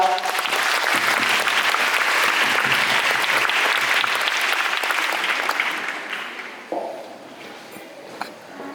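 Loud, dense applause from a school audience for student representatives, sustained for several seconds before tapering off into a few stray claps and quiet room noise.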